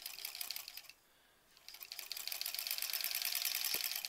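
Sewing machine stitching through a thick quilt block seam, fast rhythmic mechanical chatter that pauses briefly before resuming steadily, close-up.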